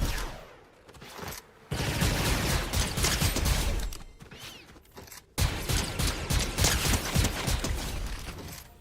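Heavy Blaster gunfire in a video game, dense rapid bursts of shots in two long stretches separated by brief pauses, loud and close with mechanical clanks between volleys.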